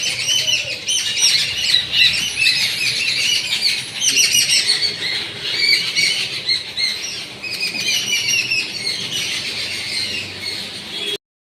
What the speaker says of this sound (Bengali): আমাদের জানলার ওখানেই পাখি কিচির কিচির শুরু করেছে